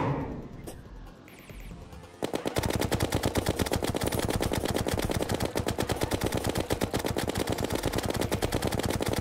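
Rapid automatic gunfire from a gun in the video game Terraria, a dense, fast, evenly spaced burst of shots that starts abruptly after a couple of seconds of game sounds and continues loud to the end.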